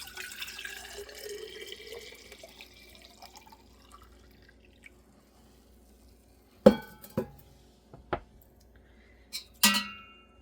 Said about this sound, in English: I'm going to take it and pour it into a quart-sized jar